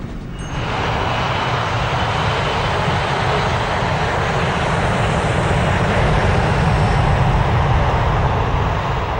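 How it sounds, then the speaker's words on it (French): Engines of an old, noisy Boeing 737 on Aloha Airlines flight 243 during takeoff, with strong cabin vibration: a loud, steady roar that sets in abruptly and holds unbroken throughout. "Le vieux 737 est bruyant et les vibrations sont importantes"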